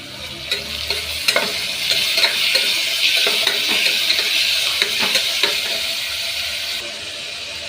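Tomatoes hit a hot frying pan with a loud, steady sizzle while a spoon stirs and scrapes against the metal in irregular clinks, with no talking.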